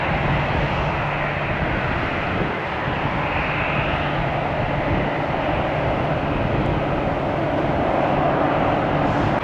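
A Southwest Boeing 737 MAX passes overhead near Tampa's airport, a loud, steady broadband jet roar that holds and swells slightly with no voices.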